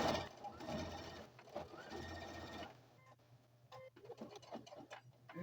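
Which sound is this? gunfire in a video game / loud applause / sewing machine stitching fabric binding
sewing machine stitching fabric binding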